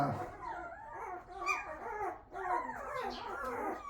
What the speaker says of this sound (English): she gave a little bark